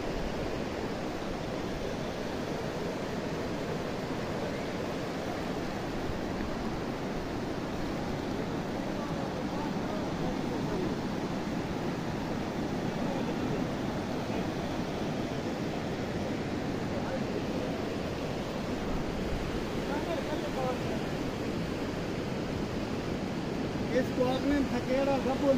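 Water overflowing Chapri Dam near Mianwali, a steady broadband rushing roar like surf, continuous and loud, with some wind noise on the microphone.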